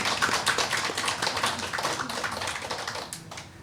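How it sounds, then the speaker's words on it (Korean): A church congregation applauds a visiting pastor's family from America, a dense, steady wash of many hands clapping close and loud throughout, without talk. "박수 한번 더 칩시다."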